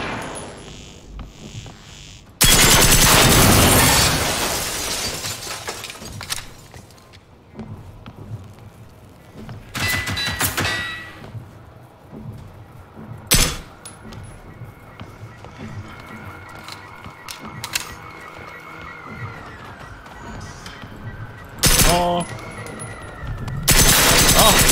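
Gunfire in the video game Generation Zero, shots fired at a tank: loud bursts of rapid fusillade and single sharp cracks scattered across the scene, with quieter movement sounds between them.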